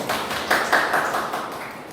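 A brief round of clapping from a small group in a training room. The claps are quick and overlapping and fade out within about two seconds.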